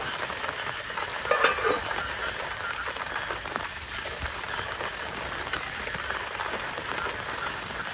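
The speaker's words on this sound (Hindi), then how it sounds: "बारिश भी हो रही भाई" Steady monsoon rain hiss with a dense patter of drops beside a lake, continuous throughout, with a brief louder splash early on; no talking.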